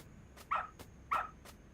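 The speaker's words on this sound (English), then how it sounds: "Good dog. Very good dog." Dog barking in the video game Lost Judgment: two short, sharp barks spaced about half a second apart, moderately near, over quiet background noise.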